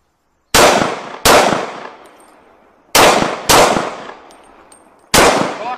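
Five sharp pistol shots ring out alone in an irregular rhythm, each loud crack followed by a short decaying echo.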